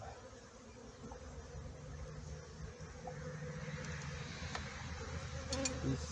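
A soft, steady buzz of honeybees around hive frames of honey and pollen fills the background, faint and continuous, with a few brief louder passes near the end and no voices.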